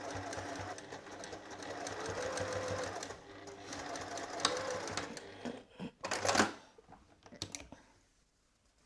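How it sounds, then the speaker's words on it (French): A sewing machine stitches close to the edge of a jacket pocket, running in a steady fast whir for several seconds before slowing and stopping with a few clicks. "Et je vais piquer à 1 mm du bord."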